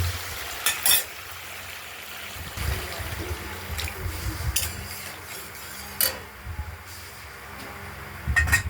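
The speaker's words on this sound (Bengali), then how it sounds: "এবার দিয়ে দেবো আমরা জল" Water is poured into hot oil in a pan of rohu fish curry with potatoes and stone-ground spices, giving scattered sizzles and splashes along with low bubbling and a few clicks against the pan.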